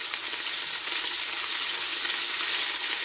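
Meat seasoned with salt and spices sears in a hot pan for Moroccan couscous, giving a steady, close sizzle that holds evenly throughout with no voices.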